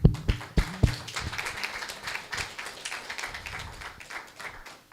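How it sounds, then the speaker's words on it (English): Audience at a Christian conference clapping hands, a few sharp claps at first, then thinning into scattered, fairly faint applause. "Let us clap hands for her."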